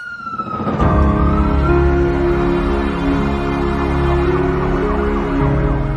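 A loud ambulance siren in Himachal Pradesh, India, wails and sweeps up and down continuously, with a steady engine rumble underneath and no talking.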